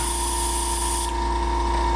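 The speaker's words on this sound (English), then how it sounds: "We're gonna keep spraying that out." An airbrush sprays thinned paint and alcohol into a spray-out pot, giving a steady, close, continuous hiss that holds evenly throughout with no talking.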